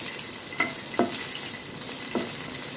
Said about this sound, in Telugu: ఇప్పుడు పచ్చిమిర్చిలు వేసుకుంటున్నాం అవి ఒక 30 సెకండ్స్ వేగాక